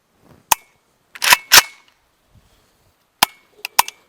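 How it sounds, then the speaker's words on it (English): A Norinco NHM-91 rifle fires five sharp, loud gunshots outdoors, two close together early, then a pause, then three more in quick succession, each crack standing alone against near silence. "I haven't shot it yet though, so let's shoot it."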